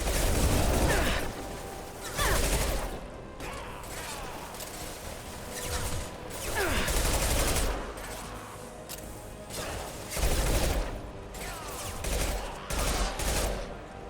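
Concussive shot and heavy gunfire in a Mass Effect firefight on Omega: repeated loud bursts and impacts, dense and close, with battle noise between the shots.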